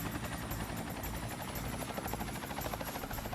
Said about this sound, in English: West keys to steer the helicopter, jump to give it some lift